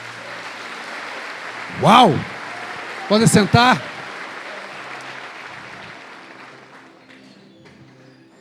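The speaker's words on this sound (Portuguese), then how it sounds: "Dá uma salva de palmas ao Senhor." A church congregation at a men's conference applauds, a steady wash of many hands clapping that slowly fades away near the end, while a voice exclaims and speaks briefly over it.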